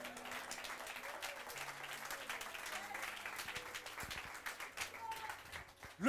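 A church congregation applauds the Lord, a dense, continuous round of clapping from many hands throughout, with a sustained organ-like tone beneath and a few voices mixed in.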